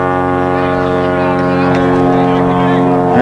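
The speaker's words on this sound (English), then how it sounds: "It's a small airplane passing overhead." A small airplane passes overhead with a loud, steady, droning engine hum and strong harmonic tones, sounding close and sustained while a voice talks over it.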